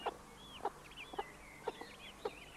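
Chickens kept in a permaculture setting cluck in a steady rhythm, about five short, fairly close clucks spaced half a second apart, with softer chirps and bird calls in the background and no talking.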